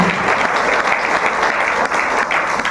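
An audience at a stage event in India breaks into loud, sustained applause, dense clapping filling the whole moment.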